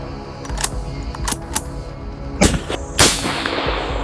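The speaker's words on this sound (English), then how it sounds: "A gunshot cracks through the air." Several sharp cracks ring out, a few spaced apart early on, then a louder pair near the end, each with a short echoing tail over outdoor rumble.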